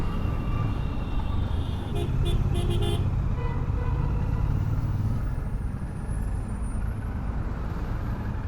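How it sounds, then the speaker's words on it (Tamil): Heavy road traffic in Tambaram, heard from a Bear 650 motorcycle ride: a constant dense engine roar with a short cluster of horn toots early on, loud and close throughout. "சரியான டிராஃபிக் தாம்பரம்."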